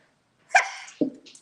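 A single sharp human sneeze bursts out close by, followed by a short breathy exhale, alone in a quiet room.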